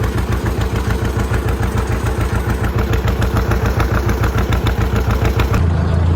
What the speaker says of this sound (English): I am now on this tractor.